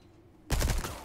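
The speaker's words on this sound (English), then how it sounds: "Use your submachine gun." Submachine gun fire from the TMP in the video game Resident Evil 4, a sudden loud dense burst of rapid shots that starts halfway through and sustains to the end after near silence.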